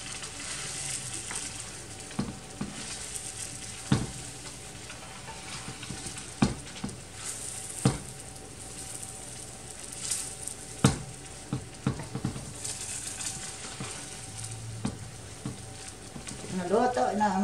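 Pancit bihon rice noodles being stir-fried in a pan, a soft continuous sizzle broken by scattered scrapes and knocks of the spatula, fairly quiet and close, with no talking.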